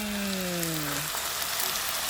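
Ribeye steak sizzles on a campsite cooking surface, a steady, close crackling hiss that runs the whole time, with a brief tonal whine fading out early on.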